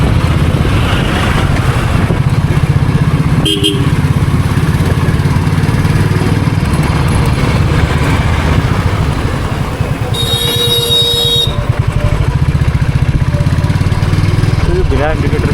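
A Royal Enfield Classic 350 thumps along at an even pace while being ridden in the evening. A steady low engine pulse runs throughout with wind noise and a brief horn-like tone midway, and a voice talks over it.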